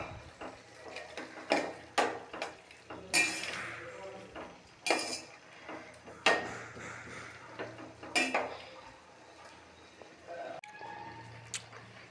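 Cooked moong dal poured into spinach kootu in a pot, then stirred, with a series of clanking ladle and vessel knocks and scraping bursts, fairly close and intermittent, no speech.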